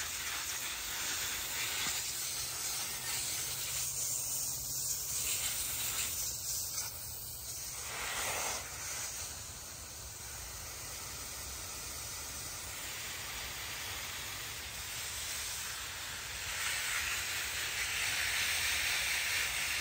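A garden hose sprays water across a vegetable garden, a steady soft hiss that rises and falls slightly as the stream moves, with no voices.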